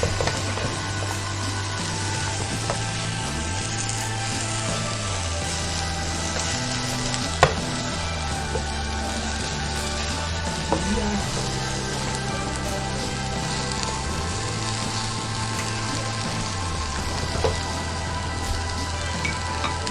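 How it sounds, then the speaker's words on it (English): Prawns and vegetables sizzling in a pan for a healthy stir fry, a steady loud crackle that runs the whole time with a low hum beneath and a few sharp knocks. "I'm going to add the prawns to it and give it a stir for 2 minutes"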